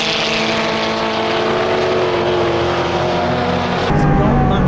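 Onboard a Mitsubishi Evo in production touring car racing at Sydney Motorsport Park, the engine roars loud and steady at high revs through the corners, with a sharp rise in intensity near the end.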